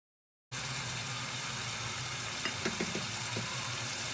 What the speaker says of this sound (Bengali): এখন একটি কড়াইয়ে অল্প তেল দিয়ে এতে ডিম ছাড়া বাকি উপকরণ দিয়ে 3 থেকে 4 মিনিট ভালো করে কষাবো